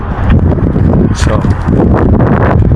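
Strong wind on a sunny but cold day gusts and buffets close against the microphone in loud, uneven roaring bursts while a person talks over it.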